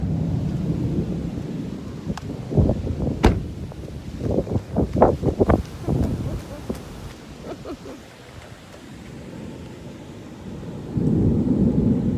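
Thunder rumbles and cracks nearby in a series of booming rolls, heard from inside a parked car, over a steady wash of rain and wind that swells again at the end.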